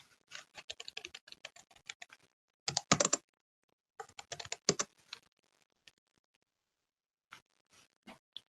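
Bursts of quick clicking keystrokes on a computer keyboard, close and crisp, coming in uneven clusters separated by short pauses of silence.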